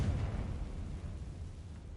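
A Confringo blasting spell explodes in the Hogwarts Legacy video game, a loud low rumbling boom that decays slowly over two seconds with no talking.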